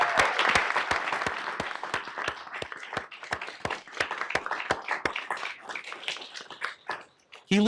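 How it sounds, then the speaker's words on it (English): A big round of applause from people at a Tempe city council regular session, many hands clapping in a steady, fairly loud burst with sharp distinct claps that thins out toward the end. "That alone deserves a big round of applause"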